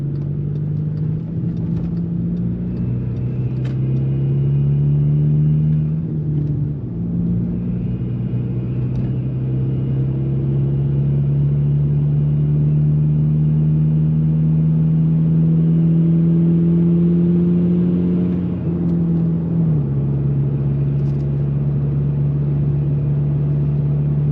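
A steady car engine drone with a faint high whine from a faulty turbo diverter valve riding above it, the pitch dipping and climbing as the engine revs.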